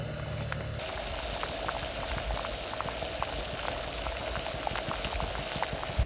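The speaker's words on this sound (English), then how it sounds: "I'm going to let that boil for a while, just stir it until the juice turns kind of brownish" Raisins and water boil in a pot for Navajo tamales, a steady close bubbling hiss with small pops throughout, no voices.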